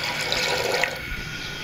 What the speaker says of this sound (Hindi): तकरीबन मैं इसमें 2 गिलास भर के पानी के डालूंगी